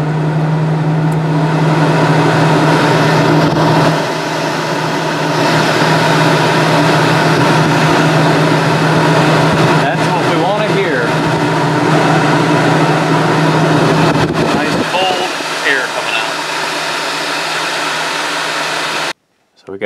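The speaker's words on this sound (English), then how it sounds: "Go ahead and flip on the compressor. And there's the compressor." Coleman Mach 8 RV rooftop air conditioner compressor running, a loud steady hum and whirring drone held for most of the stretch, then cutting off near the end.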